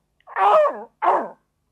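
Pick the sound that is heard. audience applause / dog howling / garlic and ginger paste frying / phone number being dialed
dog howling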